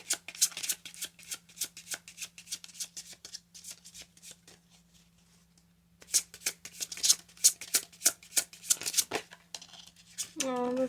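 Tarot cards being shuffled by hand, crisp rapid riffling bursts in two bouts separated by a quiet pause, close and clear with a steady low hum underneath.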